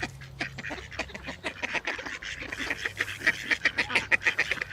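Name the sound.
ducks quacking while being fed by river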